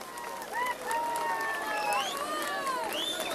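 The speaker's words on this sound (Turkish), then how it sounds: "bir alkış alıyorum" A crowd at an outdoor youth festival concert in Gölbaşı applauds and cheers with shrill rising whistles, a steady, dense roar of noise lasting throughout.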